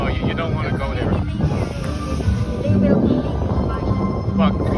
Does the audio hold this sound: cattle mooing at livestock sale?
no